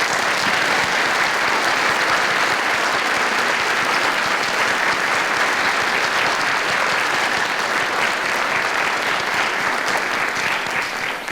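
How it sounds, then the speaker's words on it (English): Sustained audience applause at a high school Rotary concert honoring Dr. Martha Brown, a dense, steady wash of clapping hands filling the room for about eleven seconds with no talk over it, fading slightly at the very end. "let's give her a round of applause too."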